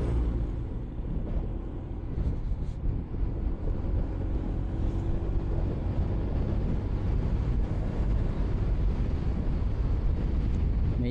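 Steady, loud wind roar buffets the microphone throughout a boat ride on the open sea, a continuous low rumble with no talk over it.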